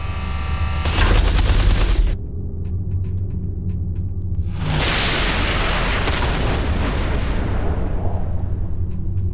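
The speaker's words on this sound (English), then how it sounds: "Watch out! The artillery!" Heavy artillery fire and explosions in the space combat game Everspace 2, with a loud broadband blast burst, a brief lull, then another powerful boom rolling into sustained rumbling barrage and debris crackle.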